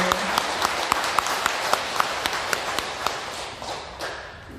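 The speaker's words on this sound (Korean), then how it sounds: "큰 박수로 함께 감사드립니다." Congregation in a Catholic church applauding two priests, a sustained crowd clapping with a few crisp louder claps on top, a voice faintly beneath.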